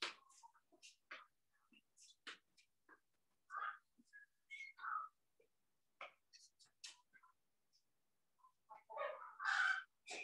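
A hen clucks and squawks close by, sparse irregular calls in short bursts with gaps of quiet, growing louder and busier toward the end.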